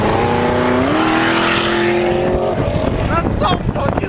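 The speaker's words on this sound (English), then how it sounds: "So I have these stainless power, which don't look stainless anymore. Long tube headers. They're pretty loud." A Camaro's LS V8 with stainless long-tube headers revs hard. The engine pitch climbs and holds for a couple of seconds, then drops off with a gruff, loud exhaust, and voices are heard over it.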